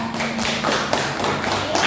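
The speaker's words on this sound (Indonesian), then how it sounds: "tepuk tangan buat Rika" A classroom of students claps together briefly in a genetics lesson, a short burst of close, scattered hand claps.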